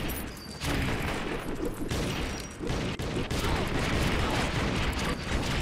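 Rapid bursts of gunfire crackle through a Western-style shootout in the video game Secret Ponchos, dense and continuous with brief dips, while players shout over the shots.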